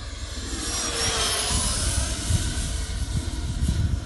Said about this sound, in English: I'm gonna bring it in for a low flyby there.